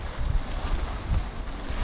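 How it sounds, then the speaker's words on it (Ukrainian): Strong wind buffets the microphone in heavy low gusts, a rough roaring rush with no voices. "Дивіться, який вітер страшний."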